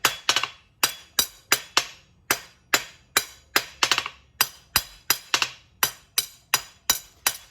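A hammer polishes hot steel on an anvil at a coal forge with an electric blower, shaping hexagon facets. Bright, ringing metallic strikes land in a steady rhythm, about two or three per second, loud and close with short decaying rings.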